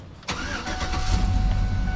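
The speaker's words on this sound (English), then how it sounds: "I'm going to start the car up" A Chevy truck engine with a fuel tank pressure sensor fault code cranks briefly and catches, then settles into a loud, close, steady idle rumble.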